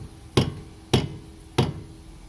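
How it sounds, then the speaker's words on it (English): A hammer knocks three times on the front hub spline of a Mazda 6 during a hub replacement, giving sharp, evenly spaced metallic blows close by with short ringing decays and quiet gaps between. "I'm trying to knock it like this, but it's not moving."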